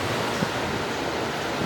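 Ocean surf at a beach in Goa, a short burst of steady washing roar mixed with wind buffeting the microphone.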